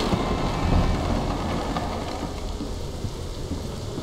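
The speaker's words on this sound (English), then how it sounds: "Storm's picking up." Thunderstorm ambience from the video game Hellblade: steady heavy rain with a low rumbling undertone of thunder, loud and continuous with no voices.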